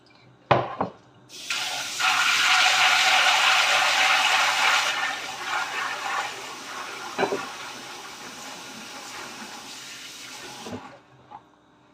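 Water runs steadily into a basin as soybeans are washed for homemade tempeh, a loud continuous rush with a few knocks and splashes at the start and end.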